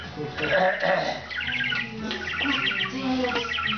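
A small pet bird chirps and tweets in rapid, bright little phrases, close by and continuous, with people talking softly underneath.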